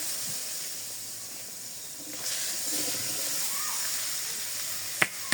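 Whole cumin seeds sizzling in hot mustard oil while cooking a vegetable dal, a steady close hiss that swells slightly partway through, with a couple of sharp pops near the end.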